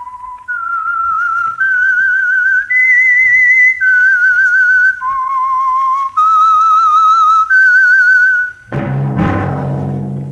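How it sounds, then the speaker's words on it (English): A clear, close whistled melody of held and wavering notes stepping up and down, the opening signal of an old-time radio mystery program, ending as a burst of brassy music begins. "That whistle is your signal for the Signal Oil Program, The Whistler."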